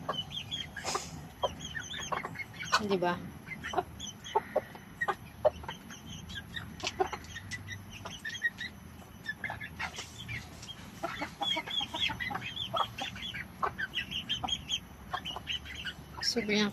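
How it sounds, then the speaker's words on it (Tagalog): Backyard chickens by their coop cluck in a steady scatter of short calls, close but fairly soft, with a person speaking briefly. "Pakain tayo ng manok."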